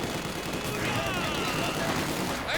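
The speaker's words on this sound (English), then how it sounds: "MG42 actually not quite able to hit many troops" Bursts of MG42 machine gun fire in a Company of Heroes 2 battle rattle on steadily amid the dense din of combat, with no pauses.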